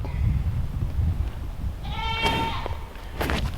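Goats out grazing, with a couple of short, wavering bleats rising over a rustling outdoor background, fairly faint and not too distant.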